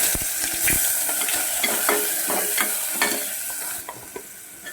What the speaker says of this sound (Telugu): ఆయిల్ పెట్టాను ఉల్లిపాయలు పచ్చిమిర్చి